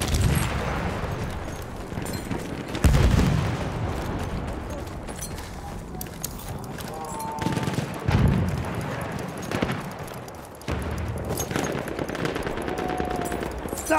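Light machine gun fire in Battlefield 1 on PS4 comes in loud rapid bursts mixed with heavier explosive booms and battlefield noise, while a player's voice talks over parts of the action.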